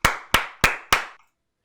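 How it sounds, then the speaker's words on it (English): Hand claps made as a sync marker, four sharp, evenly spaced slaps about a third of a second apart, loud and close, then silence. "you can already see right there the 5 little claps that I made"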